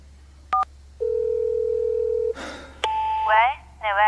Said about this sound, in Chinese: 我去打个电话。